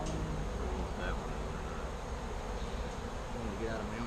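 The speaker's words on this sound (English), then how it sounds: "Are these bees coming back from their foraging?" Honey bees buzz steadily around a hive during a sugar-roll mite check, a continuous close drone with a faint voice murmuring beneath it.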